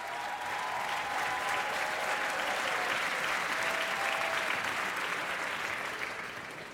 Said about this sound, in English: you can see them applauding there